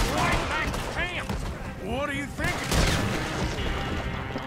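Rifle gunshots in Red Dead Redemption 2 from a one-shot-kill weapon, loud sharp cracks scattered through a busy in-game scene, with booming reports and overlapping game sounds and voices.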